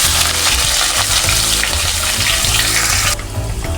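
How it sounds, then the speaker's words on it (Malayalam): Chopped onion hits hot oil with cardamom, cinnamon and cloves, a loud, dense, close-up sizzle and crackle that runs steadily throughout, easing slightly near the end, with no talking. "ഇനി ഇതിലേക്ക് അരിഞ്ഞു വെച്ചിരിക്കുന്ന ഒരു ചെറിയ സവോള ചേർത്ത് കൊടുക്കാം."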